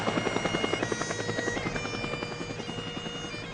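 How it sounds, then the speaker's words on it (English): Military Iroquois helicopters arrive, the rotor's rapid rhythmic thumping loud and steady over a whining turbine drone, easing slightly as the aircraft passes. "The 3 bodies arrived together at Ohakia in 3 separate Iroquois helicopters for the military service"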